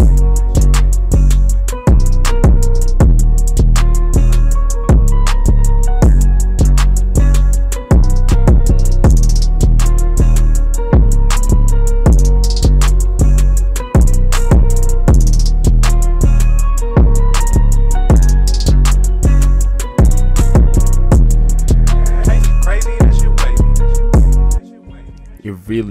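A loud synth melody with steady rhythmic chords and a washy layoff reverb tail, in FL Studio, playing continuously before cutting off near the end.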